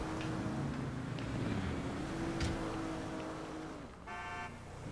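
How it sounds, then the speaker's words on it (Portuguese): A car horn honks in GTA V, a harmonic tone near the end of a real-life-mode roadside scene after a Ford Ranger 2017 accident, over steady low traffic and engine rumble. "O cara buzinando aqui."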